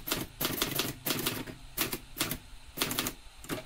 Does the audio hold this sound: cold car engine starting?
no